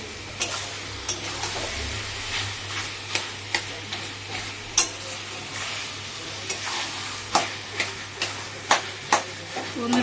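Mashed eggplant bharta being mixed with spices in a sizzling pan, with a steady frying hiss and sharp, regular scraping and tapping of a spoon against the pan, heard up close.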